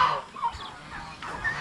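A rooster clucks softly in short, scattered calls at a middle distance, faint against background noise, on a Philippine farm where turkeys brood chicks.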